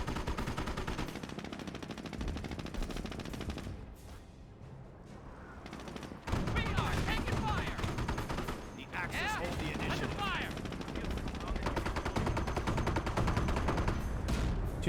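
MG42 machine gun fire in the real-time strategy game Company of Heroes, dense and continuous, with rattling bursts layered over battle noise, a brief lull midway, and a voice talking at times.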